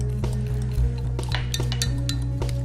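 A fork mixes tapioca starch into homemade vegan deodorant ingredients, making quick, fairly steady clinks and taps against the container with a soft scraping mush between strikes.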